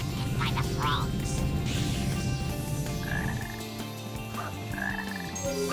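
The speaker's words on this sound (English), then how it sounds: "There are huge frogs in the storm. Once they start to croak, it will start to rain." Deep croaking of huge frogs in a stormy jungle level of the Sonic Heroes video game, sounding loud and continuous over rumbling ambience, with a couple of chirpy calls and melodic game tones layered in.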